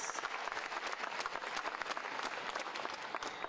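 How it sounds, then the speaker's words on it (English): Audience at a beekeeping and apiculture expo breaks into a continuous round of applause, the clapping sounding fairly distant and quiet but dense and sustained throughout. "I think she deserves a very loud round of applause"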